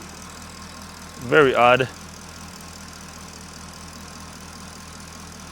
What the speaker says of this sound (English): Let me turn off the engine.